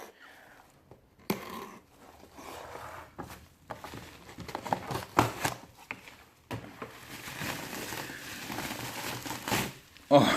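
Paper packing material crinkles and rustles as it is pulled from the box of a 1:18 scale Infiniti Q70L model car, in intermittent close bursts while someone talks.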